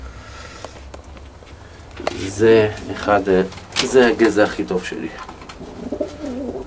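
A pigeon coos in a pigeon loft of Iranian pigeons, a few throaty rolling coos rising over quiet shuffling, close by, while someone talks.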